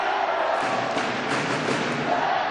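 Dense, steady roar of a high school boys' basketball crowd cheering in a gym, loud and sustained throughout with no break, the noise of many voices blended into one continuous wash.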